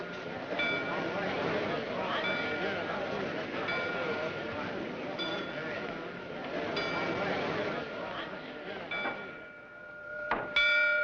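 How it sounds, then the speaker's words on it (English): Bells ring repeatedly in the background while voices and a noisy din carry on over them. "Sneed, stop those bells!"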